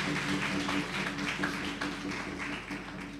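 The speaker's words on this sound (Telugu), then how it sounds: "గట్టిగా చప్పట్లు కూడా దేవుని స్తుతి." Audience clapping loudly in a Telugu Catholic church gathering, offered as praise to God; a dense, steady wash of many hands runs the whole time, evenly loud with slight surges.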